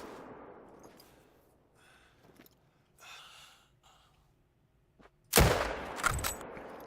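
A Volgarda rifle fires one loud, close shot in the hunting game theHunter: Call of the Wild, with a sharp crack and a short rumbling tail after quieter rustling and breathing.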